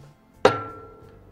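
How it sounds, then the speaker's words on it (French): A single sharp metallic tap of a hammer striking a screwdriver set in a notch of an old bicycle cassette, ringing briefly with a fading tone in a quiet room. "je mets le tournevis dans une encoche, une des deux encoches, et je tape de manière à dévisser la vis"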